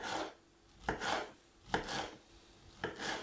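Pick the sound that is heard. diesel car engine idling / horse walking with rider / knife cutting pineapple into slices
knife cutting pineapple into slices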